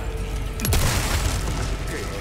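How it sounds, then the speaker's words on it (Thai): A shotgun blast fired in Resident Evil 4 Remake, one sharp, loud boom with a low rumbling tail that lingers under a steady game ambience. "ใช้ลูกซองยิงนะ"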